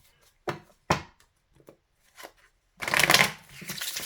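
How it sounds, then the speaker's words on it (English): Tarot cards being shuffled by hand: a few soft separate riffles and taps, then a longer dense burst of shuffling near the end, close and crisp with quiet gaps between. "Again, very smooth shuffles."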